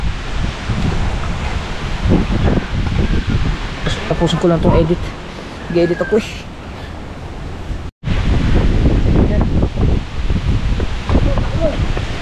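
Strong typhoon wind from Super Typhoon Uwan roars steadily outdoors near Batangas, loud and continuous with gusting noise, under someone talking close by, with a brief cut near the middle.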